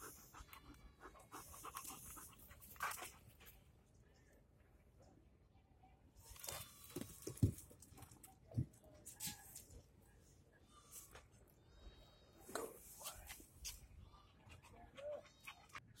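A dog pants close by in rapid, rhythmic breaths, with a few soft whimpers and faint birdsong in the background, occasional brief sounds of a person nearby.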